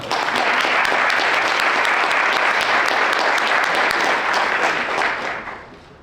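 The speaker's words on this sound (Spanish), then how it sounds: "Fuerte voto de aplauso." Sustained audience applause at a conference on Peru's democratic crisis, a dense, loud wash of many hands clapping steadily for about five seconds before fading out at the end.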